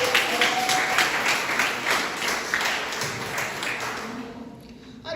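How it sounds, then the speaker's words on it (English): Audience applause at a Jamaica Cancer Society branch annual general meeting, steady clapping from a room of people that slowly thins and fades out near the end. "Another round of applause."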